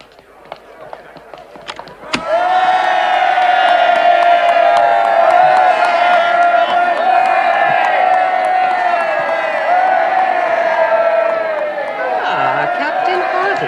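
A large crowd outside a house cheers and shouts continuously, a loud sustained roar of many voices that swells after a sharp start and holds steady before easing slightly at the end.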